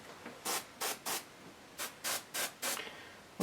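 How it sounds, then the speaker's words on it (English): An airbrush spraying out paint while painting a garage kit bust gives seven short bursts of soft, airy hiss in a quick irregular rhythm, close and fairly quiet. "we'll spray out what's in here"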